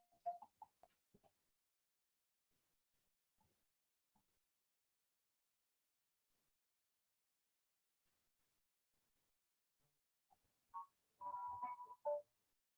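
A mobile phone rings in a quiet room during a meeting, with a few faint tones at the start and then a louder, warbling ring burst near the end.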